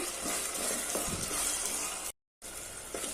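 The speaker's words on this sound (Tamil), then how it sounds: "இந்த எண்ணெயிலேயே நான் கொஞ்சமாக கருவேப்பிலை இதில் போட்டுறேன்" Curry leaves fry in hot oil for a potato and green pea masala, giving a steady, loud, hissing sizzle that runs throughout, with one brief cut to silence near the end.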